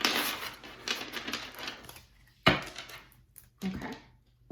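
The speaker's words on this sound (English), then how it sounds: "I'm just going to give it one more shuffle for my Geminis specifically" Tarot cards riffled and shuffled by hand in quick papery bursts, a long flurry followed by two short sharp shuffles, close and fairly quiet with no talking.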